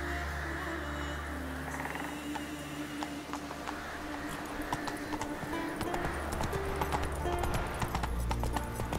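Hooves of Roach, a horse in The Witcher 3, clip-clop steadily and continuously throughout, mixed with game music and ambient sound.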